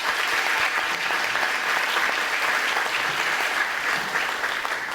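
Applause for elected officials at a Teacher of the Year and school employee recognition ceremony: a dense, steady wash of many hands clapping that holds evenly throughout, with no voices over it.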